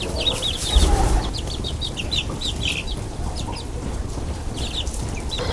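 Chickens cluck in short repeated bursts over a steady background hiss, with no talking.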